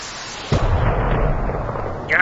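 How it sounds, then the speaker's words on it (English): An AGM-65 Maverick missile launches in the DCS flight simulator game with a sudden loud whoosh and burst, then a steady rumbling roar that carries on to the end of the short clip. "Just fired that missile. Okay, now you'll see that Maverick."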